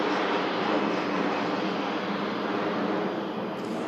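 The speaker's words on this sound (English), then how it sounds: "Egypt Air Airbus A321neo just taxiing in here." An EgyptAir Airbus A321neo taxiing in at Manchester Airport makes a steady, dense jet-engine roar that holds evenly for the whole stretch, with no voices.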